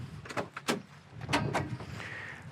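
The door of a 1966 Chevrolet Impala SS big-block classic car opens with a few sharp clicks and clunks of the latch and hinge, followed by a lighter rattle, close by and with no talking.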